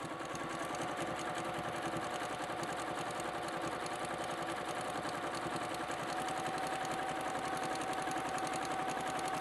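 A sewing machine runs steadily while stitching a draw cord casing on a heat-resistant travel cover for a hot iron, giving a continuous rapid mechanical whir with no pauses and no talking.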